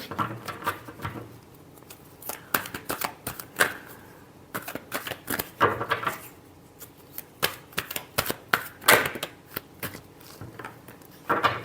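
Tarot cards being shuffled by hand in rapid riffling bursts separated by short pauses, close up and moderately loud, with no one speaking.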